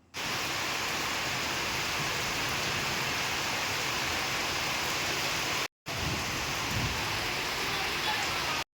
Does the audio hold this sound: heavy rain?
yes